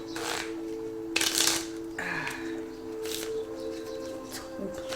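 Several quick bursts of cards being shuffled and riffled, a few separate flurries close up over a faint steady hum.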